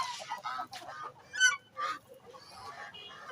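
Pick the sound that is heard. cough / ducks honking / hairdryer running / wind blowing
ducks honking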